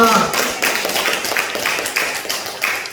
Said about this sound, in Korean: 하나님께 박수로 감사의 영광을 올려드리겠습니다.